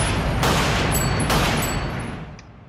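A film shooting in which a character played by Michael Caine is gunned down: two loud gunshot blasts about a second apart over a steady noisy background, then a faint ringing tail.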